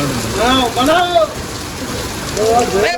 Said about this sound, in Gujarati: પાટણની અંદર હરિભા ચા પાર્લરની અંદર આગળ વરસાદ પડે છે